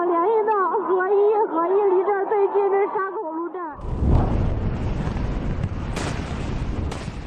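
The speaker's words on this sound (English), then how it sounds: "Flooding in central China's Henan province led to an explosion in a metal factory." Someone talks for the first half. Then a loud, broadband roar and rumble takes over from an explosion at a metal factory in Henan province in central China, set off by flooding, with a few sharp cracks near the end.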